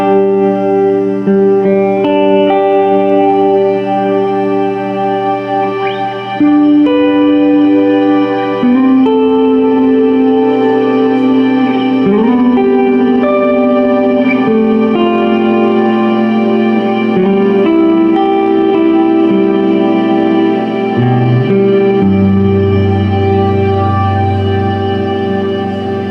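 An electric guitar played through an effects pedal rings out in sustained, shimmering chords with heavy echo and reverb, the notes layering and swelling throughout.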